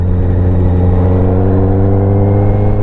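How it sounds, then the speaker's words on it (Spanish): Honda CB650R four-cylinder motorcycle fitted with a full exhaust system, revving loud and close in a steady, smooth drone with strong layered harmonics, holding for about three seconds with no one talking. "En un segundo pega un acelerón brutal"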